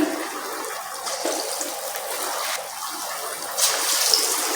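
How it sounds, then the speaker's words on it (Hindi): Falafel frying gently in oil over a very low flame, a steady soft hiss and bubble that swells slightly near the end, close and continuous, no talking. "अब हम इसमें डालेंगे फलाफल। बिल्कुल हल्की आंच पर हम इसे पकाएंगे"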